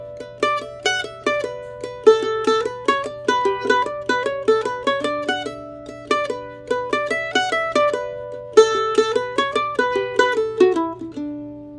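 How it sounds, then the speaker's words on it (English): A mandolin is picked in a steady melodic line with the upstrokes exaggerated, giving a lopsided, bouncy rhythm of bright plucked notes, close and alone without talk. "let's see if we can over accent all the upstrokes in the music"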